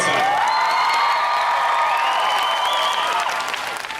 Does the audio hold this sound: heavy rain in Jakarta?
no